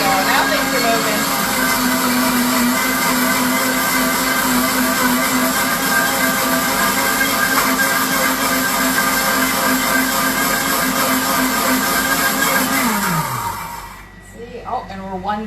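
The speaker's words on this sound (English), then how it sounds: "Learning new things about my blender all the time." A kitchen blender whirs loudly and steadily, blending cilantro into a green sauce for Peruvian chicken, then winds down and stops near the end, leaving brief quiet clatter.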